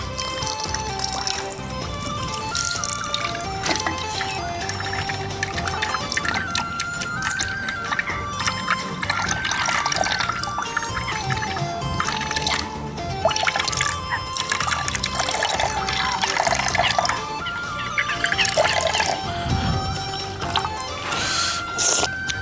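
Pani puri water is filtered as it pours and trickles continuously with dripping and splashing, alongside clinking and kitchen clatter; no voices are heard.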